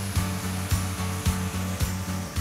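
Angle grinder sanding thick skin on a person's feet, a steady motor whine with a rhythmic grinding pulse repeating about twice a second, close and moderately loud.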